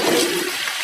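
Water being drained from a pan during an outdoor grill session makes a steady, fairly loud rushing pour that tapers off slightly toward the end, with no voices.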